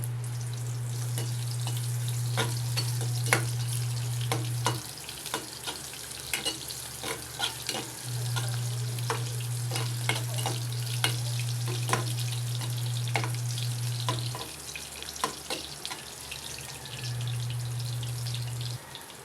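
Ginger frying in a pan for adobong pusit, a steady crackling sizzle with scattered pops and stirring scrapes, heard alone with a low hum pulsing on and off beneath.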